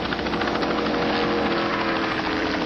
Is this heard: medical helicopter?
yes